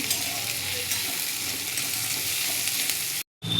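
Onions frying in oil in a pan for aloo dum: a loud, close, continuous sizzle that crackles steadily, then cuts out abruptly for a moment near the end before resuming.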